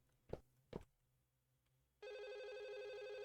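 A telephone rings in a Chinese horror video game: a steady, loud electronic ring starts abruptly and carries on alone after two short thumps in an otherwise quiet scene.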